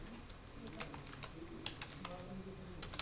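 Keystrokes on a computer keyboard while typing text into the nano editor, a steady run of light, quiet clicks in short bursts over a low background hum.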